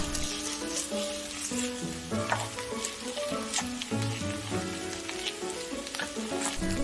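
Spoonfuls of sesame leaf pancake batter fry in oil in a pan, giving a steady crackling sizzle throughout, with light scraping and tapping of a utensil over it; no one speaks.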